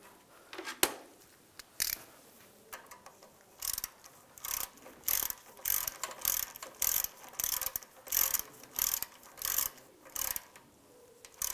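A ratchet clicks in repeated bursts, close and distinct, as a bolt is snugged down on a 1999–2005 Volkswagen Jetta during a radiator replacement; the clicking comes in steady back-and-forth strokes with short pauses, and no one speaks.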